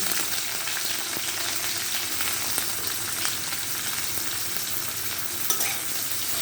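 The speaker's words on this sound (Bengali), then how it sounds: "তেল গরম হয়ে গেছে, তেজপাতা দিলাম, পেঁয়াজ লঙ্কা দিব।" Onions and green chillies hit hot oil with a bay leaf for a curry, producing a dense, even, close sizzle throughout with a few faint clicks of stirring and no voices.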